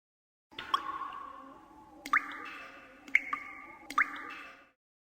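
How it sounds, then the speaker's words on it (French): Water drops drip inside a cave, a few distinct plips at slow irregular intervals over a steady faint ambience, fairly close and clear with no voices. "Des gouttes d'eau."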